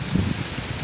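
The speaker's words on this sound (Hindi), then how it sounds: "पानी भी थोड़ा थोड़ा गिर रहा है।" Light rain falls outdoors while a strong wind blows, a continuous loud wash of noise with soft gusting swells, no voices.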